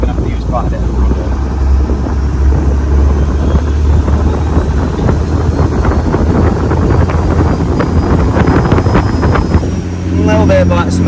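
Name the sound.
1980s powerboat with Ford turbo engines running at speed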